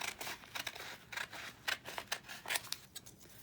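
Scissors snip through vintage tape to make strips, a run of close, crisp cuts in an uneven rhythm.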